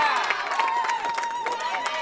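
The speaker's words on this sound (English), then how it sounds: "That was a big one, and a big cheering section for Jersey Jensen of Wayne." A crowd whoops and cheers loudly after a strike at a girls bowling championship, with high excited shouts and clapping overlapping continuously, close and lively.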